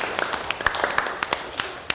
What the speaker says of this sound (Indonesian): Tepuk tangannya dong semuanya.